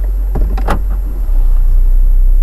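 Car starting off on a short drive, with a steady low engine and road rumble inside the cabin, a few brief clicks and knocks early on, no talking.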